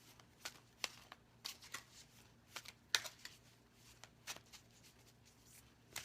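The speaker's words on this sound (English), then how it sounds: "I'm shuffling" A deck of cards is shuffled up close in soft, quick riffling flicks and taps, a faint uneven patter with sharper snaps, no talk.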